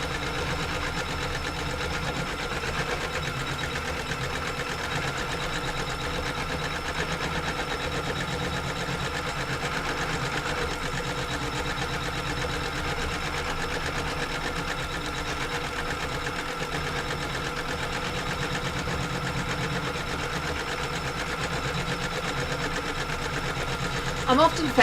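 A home embroidery sewing machine runs regular stitching steadily, a continuous even mechanical whir and patter that holds at a constant level throughout, close by, with no other sounds intruding.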